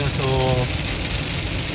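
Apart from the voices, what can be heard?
heavy rain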